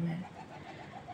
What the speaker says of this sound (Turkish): Her tarafı güvercin burada